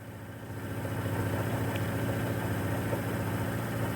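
A wood lathe spins a pen blank during a CA glue finish, giving a steady low motor hum with a faint rhythmic vibration that swells in at the start and holds evenly.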